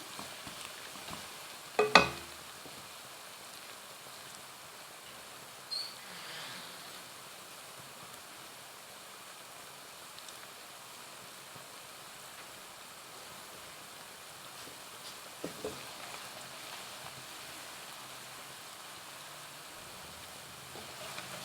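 Onions frying in a pan for a chicken royale roll, a steady, soft sizzle running throughout, with a sharp clatter near the start and a few faint scrapes later.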